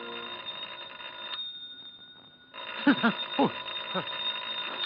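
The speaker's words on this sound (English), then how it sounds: "It's not the door, it's the phone." A telephone rings in a quiet night-time scene of a 1940s radio drama, its bell trilling steadily, breaking off briefly, then resuming alongside fuller room sound and a few low thumps.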